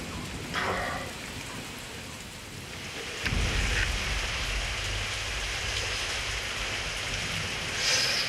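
Steady, dense rain patter fills the scene, with a heavier downpour surging in partway through and continuing as a constant wash of noise.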